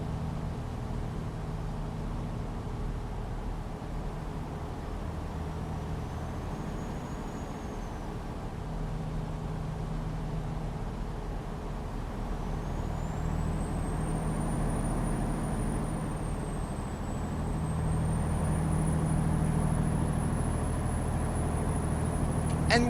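A truck engine in American Truck Simulator drones at low volume while a thin turbo whistle rises and holds high above it, growing slightly louder toward the end.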